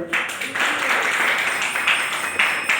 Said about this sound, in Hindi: आगे ताली बजाइए